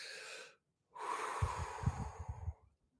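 Close up, a person draws a deep breath and then releases a forceful, breathy exhale with a rough, voiced, huffing edge that trails off into quiet.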